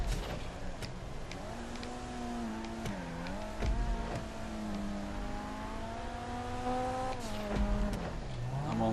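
A video-game car engine in GTA 5 drones steadily through a lap, its pitch rising and falling with repeated revs and gear shifts, with occasional clicks and brief dips between accelerations.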